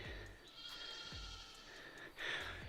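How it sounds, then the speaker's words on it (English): Goats bleat a few times against a quiet outdoor background, one cry louder near the end, with low thumps scattered between. "Those goats are annoying."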